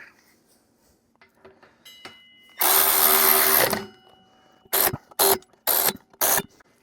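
A power ratchet runs T45 Torx brake bolts in on a Harley-Davidson motorcycle: one sustained whirring burst followed by four short bursts, close and loud against quiet surroundings.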